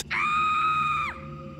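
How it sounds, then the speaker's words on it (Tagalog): A single sustained scream of pain in a horror story setting, loud and close, held for about a second before it falls away sharply, leaving a faint tonal hum. "Sumigaw pa siya ulit at naulit pa ng naulit."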